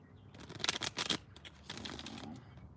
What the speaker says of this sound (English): Do 2 more shuffles, and then we'll cut.